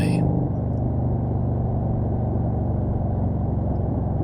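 A motorcycle engine rolls on the throttle during a Mt. Lemmon ride out of Sierra Vista, Arizona, producing a loud, close, steady droning rumble with a harmonic hum that holds unbroken from start to finish.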